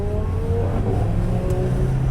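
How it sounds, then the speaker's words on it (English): A Lamborghini Huracan's sports exhaust revs nearby in traffic, its low, steady engine drone swelling slightly throughout with no talk over it. "Oh, you think you're cool with your exhaust?"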